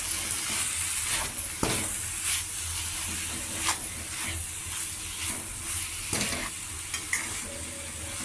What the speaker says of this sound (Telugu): కొద్దిగా కారం ఇది కూడా వేసి బాగా మిక్స్ చేసుకోవాలి.